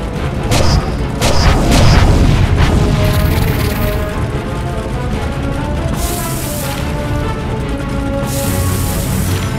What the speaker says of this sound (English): Water cannon!